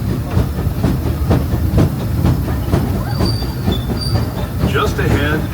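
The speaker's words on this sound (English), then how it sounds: "please remain seated until the train comes to a complete stop" The Disneyland Railroad train rolls along its track toward New Orleans Square station, with loud rhythmic clickety-clack of wheels over rail joints, a faint hiss, and brief wheel squeals near the end.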